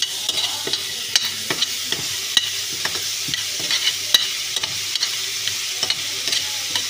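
Ginger garlic paste stirred and frying in a pan for chicken tikka samosa filling, a steady close sizzle broken by frequent sharp scrapes of a spoon against the metal.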